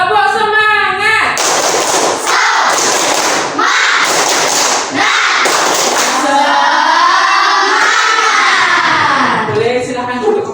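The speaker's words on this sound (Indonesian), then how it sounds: "mari kita tepuk semangat dulu yuk" A class of students stands and does the rhythmic spirit clap called tepuk semangat: bursts of loud group clapping in patterned rounds separated by short pauses, with voices chanting between them.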